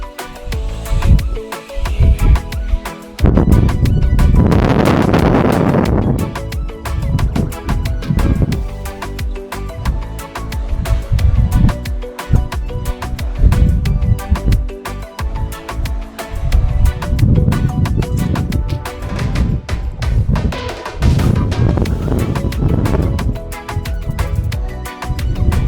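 Strong wind roars and buffets in gusting surges on the deck of the cruise ship Oosterdam in the Drake Passage, loud and close, with rumbling low rushes rising and falling over about twenty-five seconds.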